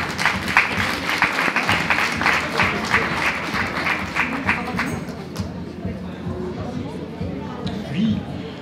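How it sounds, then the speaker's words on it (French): Audience applause breaks out in a hall during a French talk on the history of the Veydrac, dense steady clapping for several seconds that thins and fades to a quiet room with a few scattered claps. "On l'applaudit."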